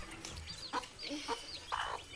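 Hen clucking in a home or farmyard setting, several short bursts around the middle and end, moderately close over a faint background.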